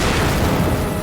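A high-explosive anti-tank shaped-charge round strikes a tank in battle, producing a loud, continuous roaring blast that fills the short moment without a break.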